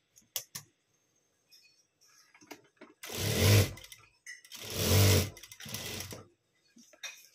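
A sewing machine stitches blouse fabric in two short bursts of whirring, each lasting about a second, with scattered clicks around them and someone talking quietly before and after.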